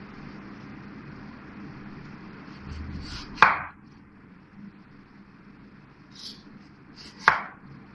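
A large peeled potato is cut into slices with a kitchen knife, giving two crisp, close chops a few seconds apart over a quiet background hiss.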